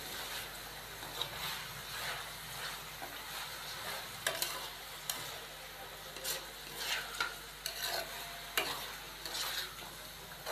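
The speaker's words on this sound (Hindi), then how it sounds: "सब्जियों को हम 1 से 2 मिनट के लिए अच्छे तरीके से फ्राई कर लेंगे" Carrots and capsicum stir-fried in a pan, a quiet steady sizzle broken by repeated scraping and stirring strokes, with no voices over it.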